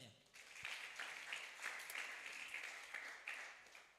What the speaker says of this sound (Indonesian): Kita berikan tepuk tangan yang meriah untuk kita semuanya.